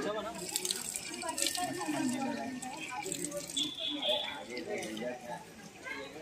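Tap water runs steadily while someone washes their feet at a Shiv temple near Ambernath station, a continuous splashing wash heard close by under people talking.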